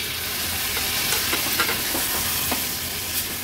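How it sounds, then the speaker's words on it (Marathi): Turmeric and homemade Agri Koli masala sautéing in hot oil, a steady close sizzle with soft stirring scrapes and small crackles throughout, no voices. "हळद आणि मसाला पण आपण छान तेलावर परतून घेऊया"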